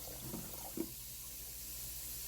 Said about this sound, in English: all I'm doing is pouring water in at this point